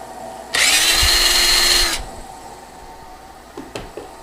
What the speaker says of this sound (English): I'm going to use this cordless drill to get this up to speed